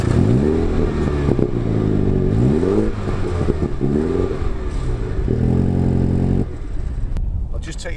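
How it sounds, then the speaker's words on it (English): A 2016 MINI Hatch John Cooper Works with a 2.0-litre engine and twin exhaust revved while stationary, repeated throttle blips rising and falling in pitch, loud and close, before the engine settles back to idle. "Let me just give it a rev."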